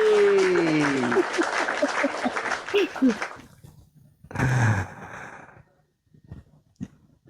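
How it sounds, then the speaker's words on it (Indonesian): Applause from a church or discussion audience rises briefly mid-clip after a man's speech, a short burst of clapping with quieter gaps and scattered sounds around it. "Tepuk tangan dulu tuh Tuhan, tepuk tangan untuk Tuhan."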